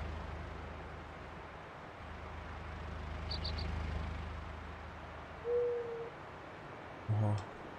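A bird call from the farm world of Farming Simulator 19 rises out of a steady low ambient rumble: a short, fairly loud hoot-like tone near the end, then a second brief, throaty call moments later, with no talking.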